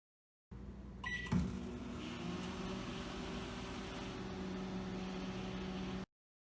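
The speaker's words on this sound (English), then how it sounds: "So I'm gonna put this in the microwave." Microwave oven running while heating water to boiling, a steady close hum after a door thump and a short beep at the start, continuing evenly until it cuts off.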